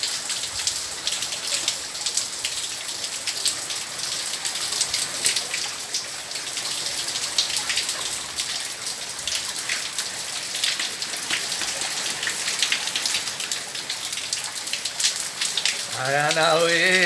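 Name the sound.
rain falling on surface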